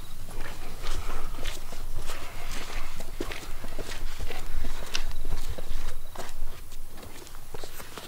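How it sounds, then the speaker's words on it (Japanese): Footsteps of people walking nearby, a continuous irregular patter of crunching steps close by, some louder and sharper than others, with no clear talking. "足音がめっちゃ聞こえるんだけど"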